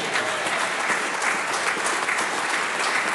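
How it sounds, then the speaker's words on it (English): Hearty applause from an audience for a Minister of Defence at a speech, steady dense clapping that fills the whole stretch at an even, sustained level. "let's give our Minister of Defence a hearty round of applause"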